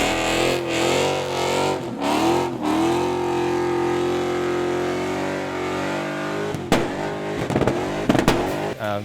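A 1970 Dodge Charger's 400 big-block V8 exhaust rumbles loudly at close range, with a deep steady idle broken by sharp throttle blips and revs.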